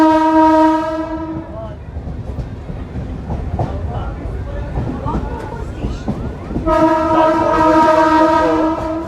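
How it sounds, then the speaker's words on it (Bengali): A Bengal local train with ICF coaches pulls out of Phulia station on the Kalinarayanpur to Shantipur route: a loud, sustained horn blast, then a close, rumbling, clattering roll, then a second long horn. "আমাদের এই ট্রেনটি কিন্তু এই মুহূর্তে ফুলিয়া স্টেশন ছেড়ে বেরিয়ে যাবে"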